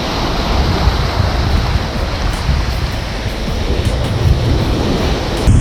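Ocean surf washes and breaks in white water along the shore during striped bass surfcasting, a loud, continuous roar close to the microphone with steady rushing hiss throughout.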